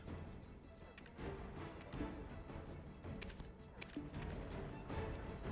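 Horse hooves galloping in the game Black Desert, a steady rapid clip-clop running continuously at moderate level over a busy background bed.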